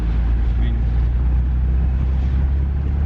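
A Jaguar E-Type's engine runs while driving, a low steady droning rumble heard from inside the car with little variation in level.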